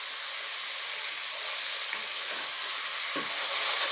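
Mushrooms frying in a curry pan over medium heat with chicken and methi, a soft continuous sizzle and hiss close up, with a few faint stirring scrapes and no talking.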